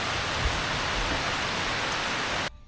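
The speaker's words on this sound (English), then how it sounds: "It's raining and it's like the sound is quite" Steady heavy rain falling outdoors by a lined irrigation pond, a dense loud even hiss that continues unbroken and then cuts off abruptly near the end.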